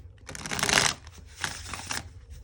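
Tarot cards are riffled and shuffled up close in a few quick bursts, crisp flutters with brief pauses between.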